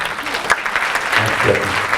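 At a French conference on equality between women and men, a seated audience gives brief, full applause for presenters of local groups, with dense clapping and a little crowd murmur through two seconds.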